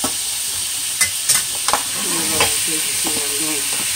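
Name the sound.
salmon sizzling as it is flipped in a frying pan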